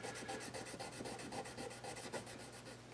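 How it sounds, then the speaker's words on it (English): Corroded frets on a Teisco Tonemaster 100 guitar are polished with 1500 grit micro mesh, making quick, close, rhythmic rubbing strokes that repeat steadily and quietly. "We're using 1500 micro mesh here, 1500 grit micro mesh."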